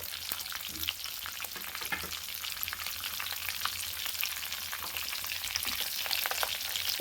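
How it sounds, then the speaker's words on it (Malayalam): Fish pieces frying in hot coconut oil with curry leaves, a steady close sizzle with dense crackling that runs unbroken throughout, with no voices over it. "വെളിച്ചെണ്ണ ഒഴിച്ചു ചൂടായി വന്നു അതിനകത്തേക്ക് കറിവേപ്പില ഇട്ടിട്ടുണ്ട് ഇനി മീൻ പീസ് ഓരോന്നായിട്ട് ഇട്ട് കൊടുക്കുകയാണ്"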